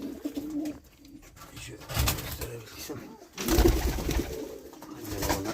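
Pigeons coo repeatedly in a breeding loft that houses young squabs, the soft calls rising and falling at moderate distance amid rustling and background noise, with a voice talking over parts of the sound.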